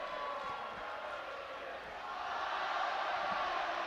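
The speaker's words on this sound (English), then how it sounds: "As the big cheer in the crowd goes up for the attempted catch and the knock-on" A crowd at an under-18 schools rugby semi-final between Oundle and Bromsgrove swells into a broad, distant roar of cheering that builds over a few seconds.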